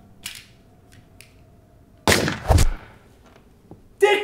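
Gunfire sound effects from a phone gun app, a few sharp bursts separated by quiet gaps, loud and close, with no talk.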